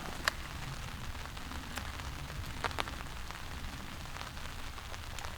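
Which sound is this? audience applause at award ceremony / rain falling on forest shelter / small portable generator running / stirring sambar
rain falling on forest shelter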